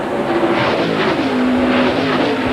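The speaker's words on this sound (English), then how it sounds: "He's trying to move that race car all the way around." NASCAR Busch Series race cars roar around the track, a loud sustained engine drone with shifting pitch as the cars run close together and no commentary over it.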